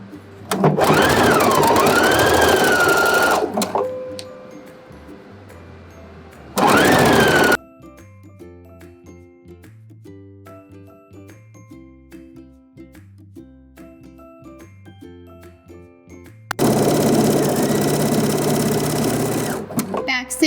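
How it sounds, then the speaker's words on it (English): A domestic sewing machine runs a zigzag stitch along the raw hem edge of a shirt, giving loud, fast whirring bursts in three separate runs with pauses between, and someone talks over quiet background music during the gaps. "now when I start zigzagging, I'm going to zigzag on the raw edge of the fabric"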